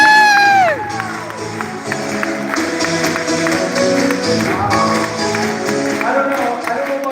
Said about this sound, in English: Give both Richard and Robert a round of applause, please.